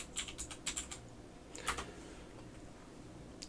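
Quick bursts of typing on a computer keyboard while entering a search for Plex Media Server, a run of light clicks up front, then a short cluster of taps, quiet and close with no talk.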